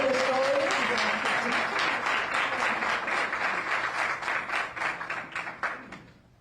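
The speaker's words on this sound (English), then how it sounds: "I just want to applaud all of our students" An audience at a community college funding event applauds students with a dense, loud round of clapping that holds steady and then thins out and fades over a few seconds.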